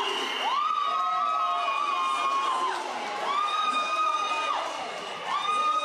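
Cheering crowd at a school sports race, loud and sustained, with rising whoops and high children's shouts swelling in repeated waves over a continuous roar of voices.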